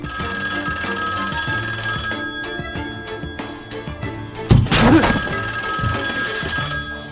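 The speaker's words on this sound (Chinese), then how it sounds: "这时电话响了起来" A telephone bell rings repeatedly in a tense thriller film scene, its steady ringing set against a low background score, with a sharp noise burst partway through.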